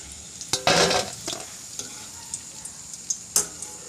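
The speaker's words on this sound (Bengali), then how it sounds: "লাল লাল করে পকোড়াগুলো ভাজা হয়ে গেছে" Chicken pakoras fry over a low flame in hot oil, giving a soft, steady sizzle. A few sharper crackles and clinks of a utensil against the pan break through it, and nobody speaks.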